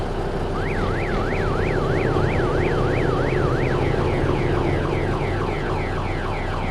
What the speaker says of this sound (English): It's a car alarm.